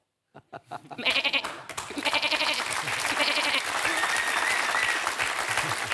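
A man imitates a goat with a series of wavering, nasal bleats that start suddenly and keep going, close and loud, while applause and crowd noise rise underneath from a live imitation contest.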